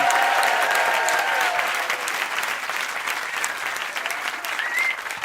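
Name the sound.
audience applauding and cheering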